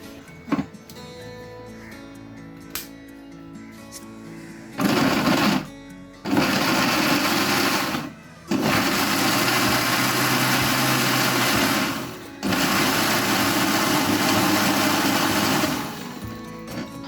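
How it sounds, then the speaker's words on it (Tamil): A mixer grinder blends tomatoes for a tamarind-free tomato rasam in loud whirring bursts, four grinding runs with short pauses between them, after quieter handling noises at the start. "இப்போ மூடி அரைக்க போகிறோம். இதை அரைச்சிக்க போகிறோம்."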